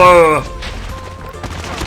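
MX9 Heartless submachine gun with a crocodile effect in Call of Duty Mobile, a loud burst of rapid fire at the start with a tonal ringing snap, then a quieter tail of scattered shots and thuds.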